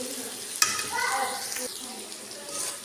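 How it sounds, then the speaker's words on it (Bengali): Small potatoes sizzle steadily in a hot pan as they fry to a reddish-brown, with a sharp clatter near the start and a faint voice underneath. "এই ছোট আলুর ভাজা খুবই ভালো লাগে খাইতে, একবারে সুন্দর করে ভালো করে লাল লাল করে ভাজে নিব"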